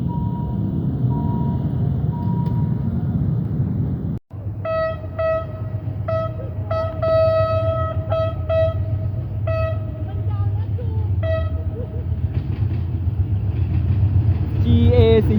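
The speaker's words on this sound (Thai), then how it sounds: "ขณะนี้ขบวนที่ 276 วิ่งผ่านสถานี" Special maintenance train number 276 rumbles steadily past a station at a level crossing in Aranyaprathet, Sa Kaeo, its horn sounding in a long series of repeated loud blasts over the heavy rolling noise after a brief gap.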